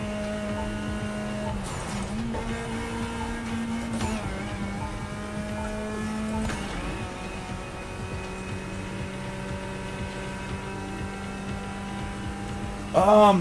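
Steady engine hum and tonal drone of a car being driven in The Crew Motorfest on a Fanatec DD Pro wheel, continuous and fairly even, with a brief louder burst at the very end.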